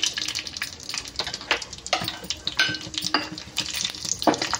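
Tempering spices crackle and sizzle sharply in hot oil, with irregular popping bursts and stirring scrapes close by.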